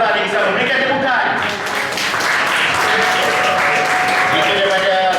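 At a closing ceremony, a loud room-filling burst of applause carries on throughout, with clapping swelling after a brief dip and a voice speaking over it.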